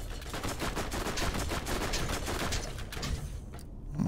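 Gunfire in the video game Borderlands erupts as dense, rapid automatic bursts that fill the scene continuously for several seconds, loud and close, then cut out abruptly near the end.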